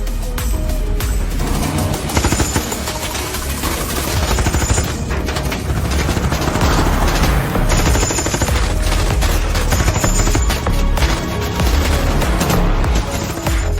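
A film battle scene in which a heavy fire team assaults a mine erupts in sustained, loud machine-gun bursts and scattered booming shots that overlap without pause for the whole stretch.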